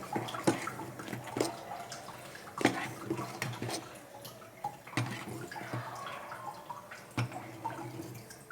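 Food boiling in a cooking pot on the stove, a steady watery bubbling and simmering with sharp splashy pops and clicks breaking through every second or two, close by and with no one talking.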